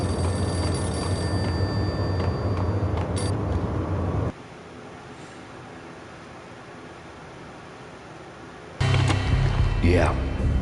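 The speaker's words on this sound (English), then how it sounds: "The payphone started to ring." Payphone ringing in the video game Max Payne, a repeated electronic telephone bell over a steady game background hum, cut off partway before other game sounds and a voice return.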